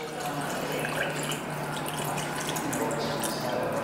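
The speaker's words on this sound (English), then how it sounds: "And then I bring the water up to just under the top of the ice" Water poured from a tap over ice in a container while preparing protein ice cream, giving a steady, close splashing and trickling fill that runs throughout without pause.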